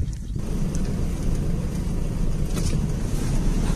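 A car drives along a dry reservoir road at Mae Song Reservoir in Phrae, Thailand, giving a steady, fairly loud low rumble of engine and road noise with a little wind, and no voices.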